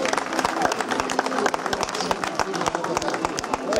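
Applause from spectators at a falconry show, individual claps standing out sharply over a crowd murmur, brisk and uneven, with voices and chatter mixed in throughout.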